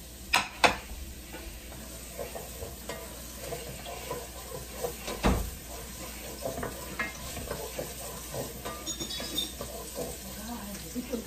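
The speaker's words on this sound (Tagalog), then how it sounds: "Okay, gigisa na tayo ng bawang." Garlic sautés in a hot pan with a steady sizzle, broken by stirring scrapes, light utensil clinks and a few sharp taps, heard close up.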